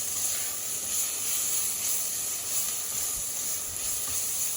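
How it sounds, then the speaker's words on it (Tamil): Grated ginger and garlic frying in a pan, a steady hissing sizzle that holds evenly throughout with no pauses. "ஸோ இதையும் நல்லா ரா ஸ்மெல் போகிற வரைக்கும் நல்லா ஃப்ரை பண்ணிக்கணும்"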